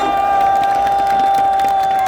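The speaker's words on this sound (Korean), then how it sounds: "함께 해주셔서 감사하다는 큰 박수 한번 부탁드리겠습니다" A crowd at a citizens' rally held on a roadway in Daejeon claps and cheers, a short burst of scattered clapping under a steady sustained tone from a sound system.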